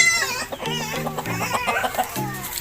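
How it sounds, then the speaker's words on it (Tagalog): A black hen with three chicks clucking and cheeping up close, a busy overlapping run of soft clucks and high peeps with a short giggle-like sound, no clear speech. "Ito na, meron akong sisiyo. Tatlong pirasong babae. Pariho itim. Mana sa nanay."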